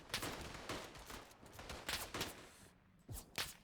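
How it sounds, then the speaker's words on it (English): Smith & Wesson revolver shots ring out in the Tannenberg video game, a series of sharp, fairly faint bangs spaced irregularly with short gaps between them. "I'm pretty sure I got 4 people with those 6 shots"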